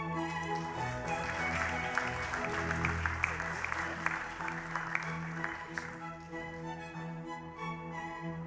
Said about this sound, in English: Let's give a big round of applause to those students who graduated with the Advanced Diploma, Bachelor of Arts and Postgraduate Diplomas.